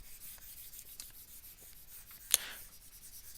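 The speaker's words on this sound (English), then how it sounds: "let's erase this part" Soft scrubbing of an eraser wiping writing off a classroom board, a faint, dry rubbing with one brief knock partway through, quiet and close.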